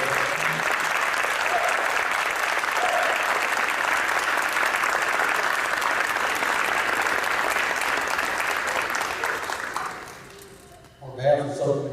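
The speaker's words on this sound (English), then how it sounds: "applause." Sustained loud applause from a school audience honoring Southern High School Hall of Fame inductees, dense clapping for about ten seconds before fading out, then a voice begins speaking at the end.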